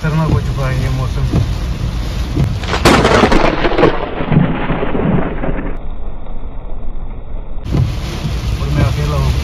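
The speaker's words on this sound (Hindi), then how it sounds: "Heavy rainfall right now here in Assam near Dhemaji." Heavy rain and thunder in a storm near Dhemaji, Assam, a dense roar of downpour with a loud rumbling burst midway, heard close and continuous, with faint vehicle or engine noise underneath.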